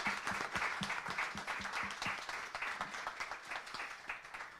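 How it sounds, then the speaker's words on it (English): A modest audience applauds Leon at a songwriters' circle, steady scattered clapping from a small crowd at a moderate level throughout, with no talk over it. "Can we give a round of applause for Leon?"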